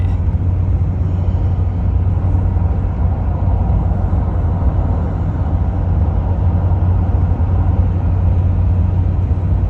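A 2018 Ford F150 with the 3.0 Powerstroke diesel climbs uphill, its engine and road noise forming a loud, steady low rumble that carries on without a break and with no talking.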